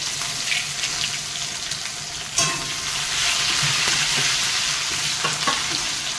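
Chopped onion drops into hot oil with red-fried tempering spices: a sharp hiss bursts out partway through, then a loud, steady sizzle continues with small crackles and stirring scrapes.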